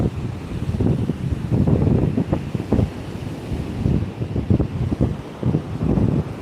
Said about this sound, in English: It got dark, so we're just listening to the waves as I walk.